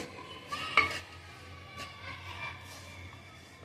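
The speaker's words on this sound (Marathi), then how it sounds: "मनुका आणि काजू. मिक्स करून घ्यायचं." Kachori filling with raisins and cashews stirred and mixed in a pan, with quiet scraping, a spoon clink and faint sizzling in repeated soft strokes.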